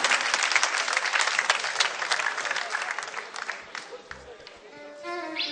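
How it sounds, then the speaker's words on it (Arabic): Big, sustained applause from a TV studio audience on a Sunday variety show fills the room, loud and dense, then thins as musical tones rise at the end. "بتصفيق كبير معك، بتصفيق كبير"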